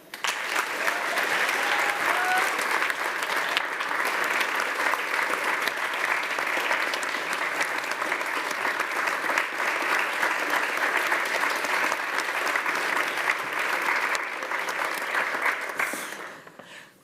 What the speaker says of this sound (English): a huge round of applause for Sequinova